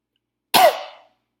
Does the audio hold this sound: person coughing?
yes